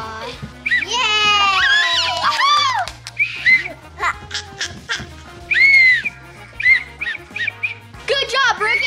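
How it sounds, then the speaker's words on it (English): A toy whistle is blown in several short, shrill bursts, some wavering and some steady, mixed in with lively children's voices at close range. "You can blow a whistle."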